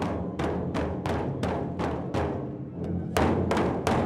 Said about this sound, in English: the sounds of the yobi daiko, or calling drums, can be heard